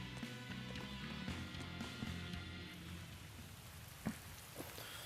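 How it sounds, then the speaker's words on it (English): Steady rain hisses through the scene in the video game Tales of Berseria, a dense patter layered with music and a few sharp transient hits near the end. "It's raining."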